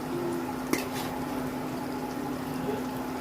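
Boiled taro going into a hilsa fish-head masala in a pan, heard as a steady close simmering sizzle with one brief utensil clink near the start and no voices.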